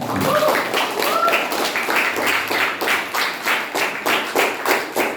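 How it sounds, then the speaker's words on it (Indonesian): An audience claps for a performer named Ican at a weekend creative entertainment event, a steady run of hand claps lasting throughout, with a voice briefly audible near the start. "Boleh tepuk tangan sama Ican."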